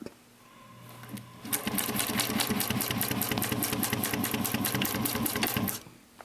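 Close by, a sewing machine stitches a seam on a mini box tote with a fast, even rhythmic clatter. It starts after a brief quiet lead-in and runs steadily for several seconds before stopping.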